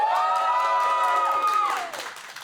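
A crowd at a student Rocket League esports grand final cheers for the Eagles, a loud sustained chorus of voices that slides downward and fades away near the end.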